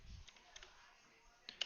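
A handful of soft, quiet key clicks come from a computer keyboard as text is typed into form fields. The taps are sparse and faint, with a small cluster near the end.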